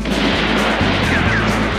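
Cowboy gunfight gunshots in a cartoon Wild West duel, a quick burst of loud, close shots over a busy noisy mix, with no talking.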